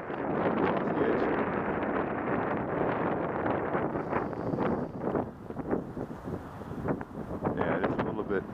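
Steady wind buffeting the microphone at a coastal slope soaring site with choppy north wind blowing off the edge, a continuous rushing roar with gusty flutter throughout.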